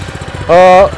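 A paddy levee weeder's small engine catches after a light pull of the recoil starter, a loud steady buzzing drone lasting about a third of a second before cutting off, with a voice talking before it.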